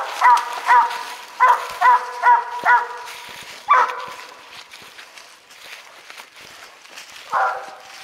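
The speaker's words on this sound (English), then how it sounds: "Right down in there is the dogs." Hunting dogs bark at a treed animal on a cold night, a run of sharp, fairly close barks in quick succession, then a pause before another bark and a final drawn-out yelp.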